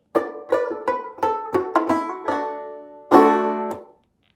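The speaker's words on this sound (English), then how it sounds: "The style that I play is one that's called claw hammer" Clawhammer-style plucked banjo notes in a bouncy, percussive rhythm, a quick run of twangy strikes ending on a ringing strummed chord, played alone.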